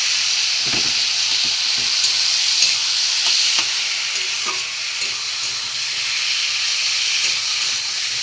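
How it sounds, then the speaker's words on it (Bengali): Spice paste for a pomfret fish curry fries in a pan with a loud, constant sizzle and hiss, broken by occasional soft knocks of stirring, close up with no talking. "একটু ভালো করে কষিয়ে নিই।"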